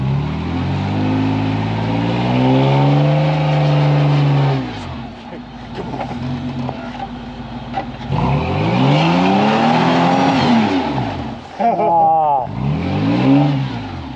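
A Toyota Land Cruiser stuck in mud revs its engine hard in repeated surges that rise and fall, with people talking and calling out over the engine noise.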